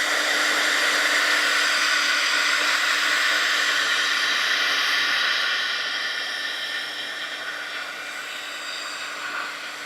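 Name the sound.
drying watercolor painting with a dryer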